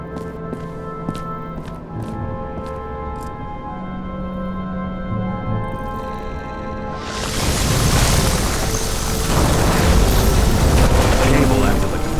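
Transformer explosion in the video game Nobody Wants to Die, a deep rumbling boom that swells in loud and close midway through and keeps roaring and crackling over a low ambient hum.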